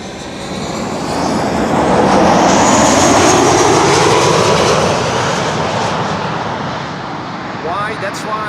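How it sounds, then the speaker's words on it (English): A KLM-era airliner on approach to Amsterdam Schiphol Airport, an arriving flight from Bucharest, roars past with a broad swelling jet rumble that builds, peaks and slowly fades, voices chatting faintly beneath. "flight 361 arriving from Bucharest"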